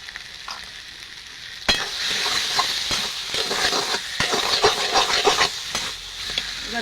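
Ghee hits a hot pan for a vegetarian Bengali dish and crackles in a loud, steady sizzle, with bursts of stirring and sharp spits rising over a constant frying hiss.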